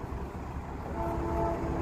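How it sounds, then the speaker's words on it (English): A Chicago metro train approaches on elevated tracks, a steady rumbling roar growing slightly louder with a faint tonal whine, heard outdoors among street traffic. "I hear the train coming now."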